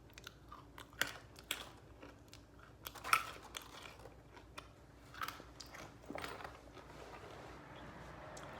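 Crunchy breaded nuts coated in Taki dust being chewed close up, with irregular crisp crunches and crackles scattered over several seconds against a quiet background.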